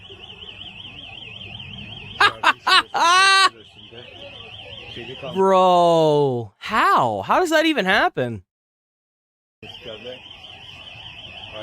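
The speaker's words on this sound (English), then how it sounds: "A cat somehow got into this bank and set off the alarm." A loud electronic bank alarm, set off by a cat, wails with a steady warbling tone, broken up by excited talking and one brief moment of silence.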